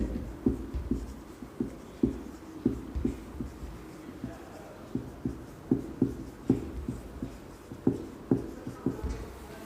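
Chalk or marker writing on a board during a Hindi grammar lesson, a steady run of short tapping strokes and scratches in an uneven rhythm, close and fairly quiet.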